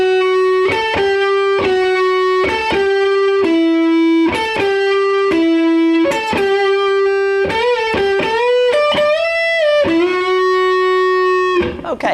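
Distorted electric guitar solo, sustained singing notes with bends and a quick run of faster notes, loud and alone.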